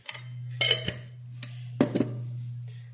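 A spoon stirs jaggery and salt into a raw radish mixture in a bowl, giving a few sharp clinks and scrapes against the dish over a steady low hum.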